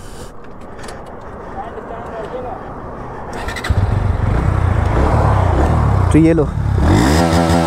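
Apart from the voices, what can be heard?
Bajaj Pulsar NS160 motorcycle exhaust note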